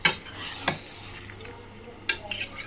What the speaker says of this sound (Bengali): এবার কষাবো, প্রথমে ঢাকা দেবো না